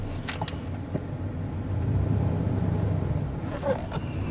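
A 2003 Dodge Dakota pickup being driven gives a steady, low road and engine rumble heard from inside the cab, fairly quiet and continuous.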